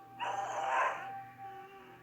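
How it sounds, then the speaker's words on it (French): A ghast in the Minecraft Nether gives a single eerie, wailing cry that swells for about a second and then fades, heard alone over a low steady drone. "les seuls bruits qui se font entendre sont des crépitements de la lave, les grognements des cochons zombies, ainsi que les cris des ghasts"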